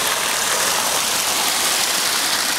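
Rainwater gushes from an old sewer outlet into a creek, a loud, steady broadband rush of flowing water close by, with no voices.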